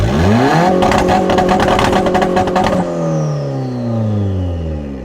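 A turbocharged Honda Civic engine revs hard on two-step launch control, held near 5,500 RPM with timing pulled, in a loud, close, stuttering crackle of rapid pops that cuts off, leaving the engine note falling away.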